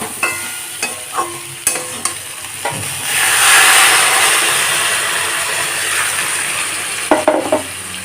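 Water poured into a hot pan of potatoes and yardlong beans frying for a Bengali curry: a loud hissing rush after a few clanking stirs, settling into a softer sizzle before more utensil clinks.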